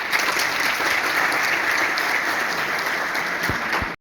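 Sustained applause from an audience at a university business-school gathering, a dense steady clatter of many hands clapping that fills the room and stops abruptly at the end.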